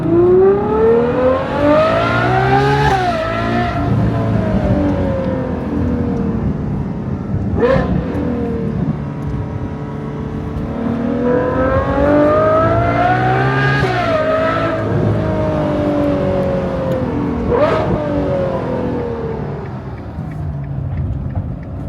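An A12 GTS supercar's engine revs hard in repeated rising and falling sweeps, loud and close, with sharp exhaust pops between the climbs.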